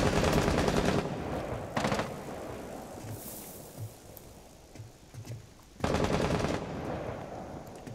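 Automatic gunfire rattles in the video game Rainbow Six Siege during a Chalet team deathmatch, with loud sustained bursts at the start, again near two seconds and at six seconds, separated by quieter single thuds and ambient noise.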